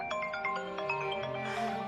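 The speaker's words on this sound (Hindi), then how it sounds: "सलमान भाई का फोन आ रहा है" A mobile phone ringtone plays a steady, tonal melodic pattern of repeated chiming notes over about two seconds, fairly quiet and heard alone without talk.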